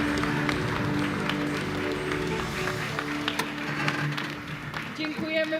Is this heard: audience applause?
yes